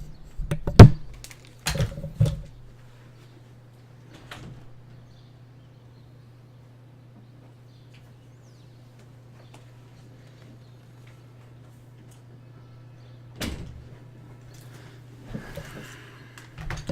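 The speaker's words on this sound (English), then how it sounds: "my cat just wanted to knock at my door" A cat knocks against a door indoors, producing a couple of sharp thumps near the start and a few more later, over a steady low electrical hum.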